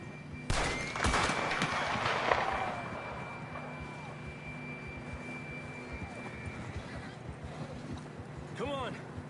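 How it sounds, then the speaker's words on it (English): A horse whinnies in Red Dead Redemption 2 amid a busy game soundscape, an abrupt loud burst at the start followed by ongoing ambience, with a short rising neigh near the end and voices talking throughout. "John was riding that horse when we left Blackwater."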